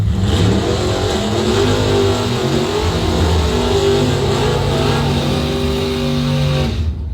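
A 1967 Camaro drag racing car at the strip, its engine revving loud and close with rising harmonic tones, the roar sustained before cutting off abruptly at the end.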